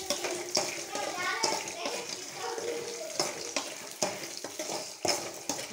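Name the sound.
peanuts and roasted gram frying in a pan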